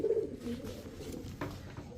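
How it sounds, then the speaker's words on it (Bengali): Pigeons at a bird market, including a large female racer, give low throaty coos in short bursts against a busy, crowded background with no clear talk. "চুইঠাল সবজি রেসার একটা মাদি কবুতর অনেক বড় সাইজের একটা মাদি"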